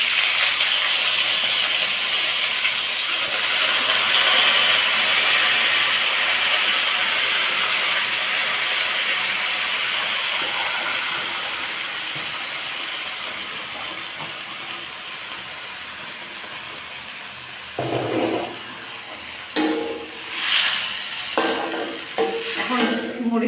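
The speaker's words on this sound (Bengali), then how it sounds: "আমি আলুগুলো দিয়ে দিচ্ছি।" Salted potatoes sizzle loudly in hot oil in a frying pan, the steady hiss slowly easing before a few clattering stirs and scrapes of a utensil near the end.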